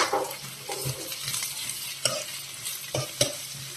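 Onions, chillies and curry leaves frying in hot oil for a potato, eggplant and tomato curry; a close, steady sizzle with rhythmic scraping stirs and a few sharper spatula knocks against the pan.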